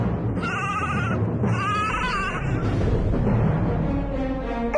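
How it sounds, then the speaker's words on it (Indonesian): A young goat bleats loudly and close by in two drawn-out, wavering calls, followed by softer rustling and a fainter third bleat against a steady background hum. "Ini dia nih, kambing yang mengganggu Tong Bajil tidur."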